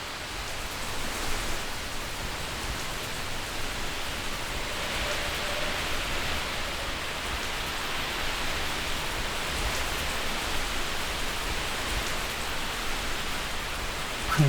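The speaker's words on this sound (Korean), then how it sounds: "굵은 장대비가 쏟아졌다." Heavy, steady downpour of late-May rain along a riverbank, a dense continuous hiss that stays loud and unchanging for the whole stretch, with no voices.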